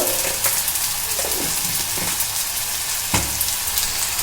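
Semolina and flattened rice fry in a pan with a continuous hissing sizzle, punctuated by several sharp scraping stirs and knocks of the spatula.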